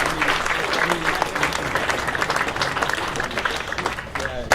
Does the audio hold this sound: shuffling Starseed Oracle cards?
no